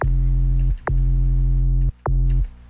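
Deep, loud sub bass layer of a Phase Plant synth bass in three sustained pulses, each starting with a quick pitch-dropping chirp and separated by short silences.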